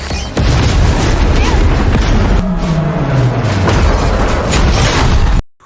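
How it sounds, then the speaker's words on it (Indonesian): A heavy, booming movie bomb blast with shattering windows and fire in an action film, a loud sustained roar and rumble with a falling whine, filling the scene before cutting abruptly to silence. "Bom tersebut kemudian meledak hingga memecahkan jendela serta membakar keranjang gantung"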